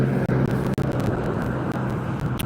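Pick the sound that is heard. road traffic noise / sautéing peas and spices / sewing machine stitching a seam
road traffic noise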